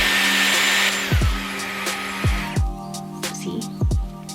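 Dyson Airwrap hair styler blowing air on its coolest setting, a steady close whoosh that drops away partway through, with low thumps and knocks from handling the tool.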